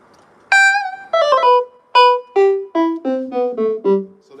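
Dry electronic wind instrument (EWI) playing a short descending phrase of distinct, clean notes with no reverb tail, close and fairly loud, with gaps of silence between some notes.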